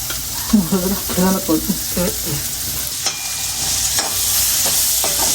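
Sliced onions frying in hot oil in a home kitchen give a loud, steady sizzle close up, with stirring scrapes and a few brief clatters, no talking.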